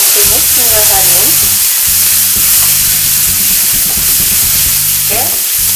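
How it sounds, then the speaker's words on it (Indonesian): Garlic, candlenut and a little pepper sauté in hot oil in a pan, with a loud, dense, continuous sizzle close by and a few spatula scrapes, with no speech over it. "Kita tumis hingga harum."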